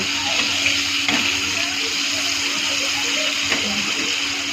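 Chopped tomato frying in a pan with panch phoron spices, a continuous moderate sizzle with soft bubbling and a few light clicks of stirring.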